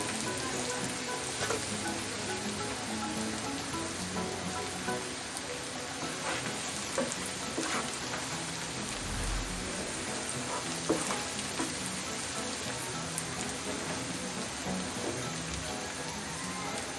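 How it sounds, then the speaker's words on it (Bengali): Onions frying in a pan of oil for a Bengali hilsa fish curry, a continuous close crackling sizzle like steady rain, with occasional faint clinks and stirring. "পেঁয়াজগুলো হালকা বাদামি রং হওয়া পর্যন্ত একটু অপেক্ষা করছি।"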